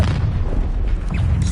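A Confringo fire spell explosion in the video game Hogwarts Legacy, a loud, dense, rumbling boom that fills the whole moment, close and heavy.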